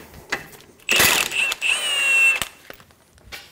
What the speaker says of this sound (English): Using a 19 millimeter socket, remove the ball joint nut.